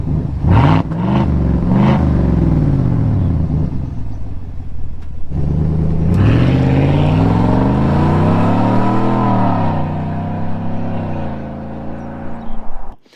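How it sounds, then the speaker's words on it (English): A loud, deep Chevy Silverado pickup straight-piped exhaust revs repeatedly, with sharp blips followed by long rising and falling throaty revs up close, then settling to idle. "this exhaust tone is very, very good now"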